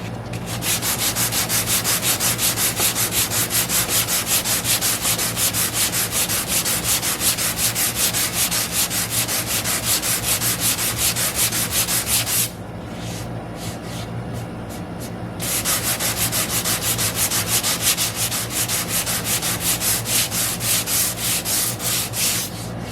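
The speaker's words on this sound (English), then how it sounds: "do a little sanding on one of these just to kind of see how it's going to turn out" Continuous rhythmic sanding of a wooden plug filling, fast back-and-forth strokes with a brief lighter, quieter stretch midway before the full scraping resumes, close and steady with no talk.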